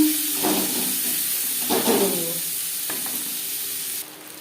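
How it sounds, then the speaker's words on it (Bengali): Onions sizzle in hot oil with a bay leaf and a little green chilli, a steady frying hiss broken by a few louder stirring scrapes, close by with no talk. "পেঁয়াজ লালচে করে ভেজে নেওয়ার পর"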